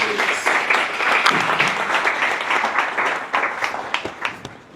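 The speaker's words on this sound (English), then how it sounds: "Can I get one more round of applause for Mark and Joe, please?" Event audience gives presenters a round of applause at an economic mobility forum, a loud full burst of many hands clapping that holds steady, then thins into scattered sharper claps as it tapers.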